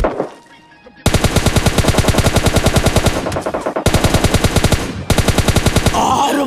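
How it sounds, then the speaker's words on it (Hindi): Loud, close automatic gunfire in PUBG Lite, a mobile battle royale shooter, with rapid sustained bursts broken by brief pauses and a short quiet stretch before the shooting starts. "इधर से इसका हेड पे हेड गोली मार दो लेकिन मरता ही नहीं"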